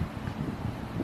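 Outdoor wind buffets the microphone in low rumbling gusts, a close, steady blustery roar over about a second with no other clear sounds.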